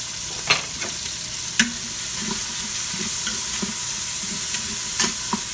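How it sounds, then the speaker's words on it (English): Peppers and vegetables sautéing in an Instant Pot for jambalaya, a constant sizzle broken by several sharp scraping clicks of a utensil against the pot, close with no talk. "We're going to saute this until it's kind of getting opaque a little bit."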